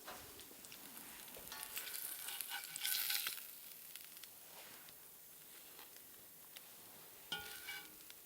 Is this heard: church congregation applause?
no